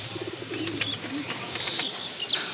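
Pigeons at a market coo in low repeated murmurs close by, with a few sharper chirps over a constant background hum.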